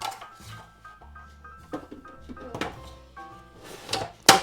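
A plastic lid is set onto a food processor bowl fitted with a coarse shredding disc and locked in place: light scrapes and knocks, a firm clunk partway through and a sharp snap at the end, close and fairly quiet.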